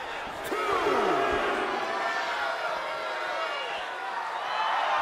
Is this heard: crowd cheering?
yes